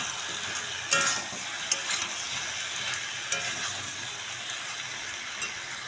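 Cumin powder frying in a pan while being stirred, a soft steady sizzle with scattered sharp clicks and scrapes from the stirring.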